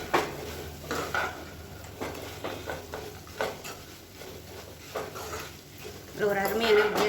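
Fried chicken stirred into gravy in a pan, a series of close scraping and clinking spoon strokes against the pan, with a voice speaking over part of it.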